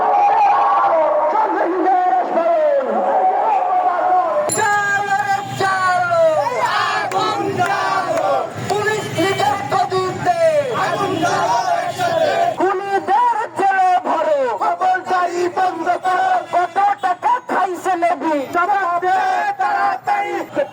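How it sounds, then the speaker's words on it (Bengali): A dense crowd on a protest march, gathered to demand the home affairs adviser's resignation, chants slogans in loud, ragged unison, voices rising and falling in continuous rhythmic bursts close at hand. "এ সময় তারা স্বরাষ্ট্র উপদেষ্টার পদত্যাগের দাবিতে বিভিন্ন স্লোগান দেন।"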